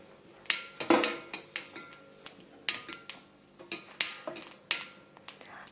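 Cumin seeds dry-roasting in a pan, heard as a quick irregular series of close, crisp metallic clicks and taps from stirring against the pan, with no talking.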